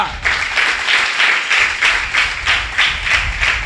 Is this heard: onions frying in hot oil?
no